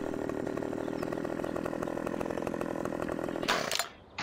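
A chainsaw in the Farming Simulator 17 video game fells a tree, its loud, steady buzzing drone running continuously before a burst of noise as it stops and fades.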